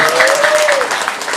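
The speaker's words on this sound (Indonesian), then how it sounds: "tepuk tangan paling bisa ya sangat luar biasa" Brief burst of audience clapping at an outdoor Balinese drama gong performance at a temple, loud and continuous, with a voice talking over it.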